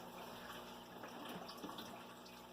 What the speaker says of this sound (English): this is what I'm going to use to siphon out the water and do the vacuuming